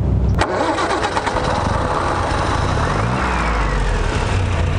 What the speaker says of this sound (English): So I'm gonna fire this back up. Crank it from the solenoid.